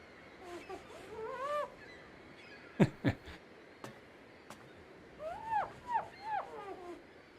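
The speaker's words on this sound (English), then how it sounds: "look at all those birds down there waiting to kill me" Birds call in a few bursts of squawking, honk-like cries, with a couple of sharp louder calls in the middle, heard over a low steady background.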